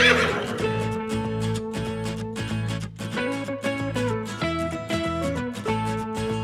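A horse neighs and whinnies in a children's cartoon, a loud, wavering, tonal whinny that repeats over a busy backing tune.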